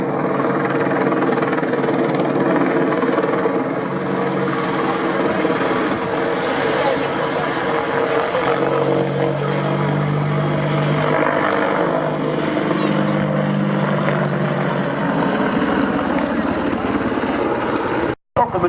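Apache attack helicopter hovering and diving through a display manoeuvre at an air day, a loud continuous rotor and engine drone with shifting low throbbing tones, with a commentator talking over it.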